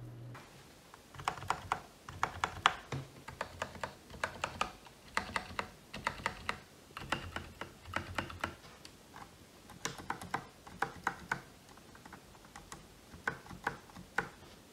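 A mechanical keyboard with freshly lubed stabilizers is typed on in quick bursts of clacky keystrokes with short pauses between them. The keys sound close, crisp and fairly quiet, with no talking.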